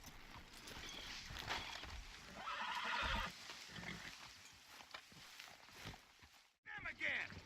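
Horses in Red Dead Redemption 2 clopping their hooves and whinnying amid outdoor game ambience, at moderate distance with shifting loudness, while characters talk over them and a brief break in sound comes near the end.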